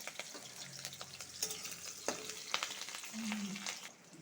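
Green chillies and nigella seeds frying in hot oil, giving a quiet, steady sizzle with scattered sharp pops and spatters, close but soft, with a brief faint tone near the end and no talking.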